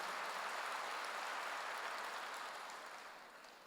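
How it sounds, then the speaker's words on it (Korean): A church congregation claps during a sermon, a dense wash of applause from many hands that holds steady and then gradually fades toward the end. "박수로 하나 더 해주세요"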